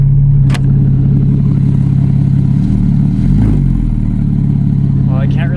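Straight-piped Porsche Cayman S exhaust idling with a deep, steady, loud rumble close by, a brief tonal flutter near the middle, with a person talking over it.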